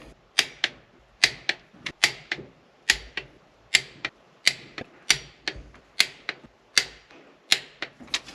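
A torque wrench clicks repeatedly while bolts are tightened on the power shift control valve of a Case 1070 tractor, sharp close metallic snaps in a steady rhythm with no talk.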